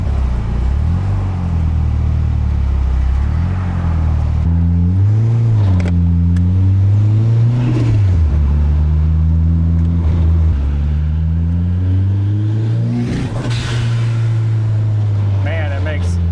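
Turbocharged Nissan 240SX engine, recently revived after sitting for years, running loud and close with a low steady drone and several rises and falls in revs, with people talking over it.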